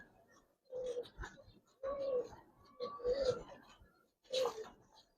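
Giribaz and coloring pigeons cooing in a loft, four separate low coo phrases spaced over a few seconds, close by and fairly quiet.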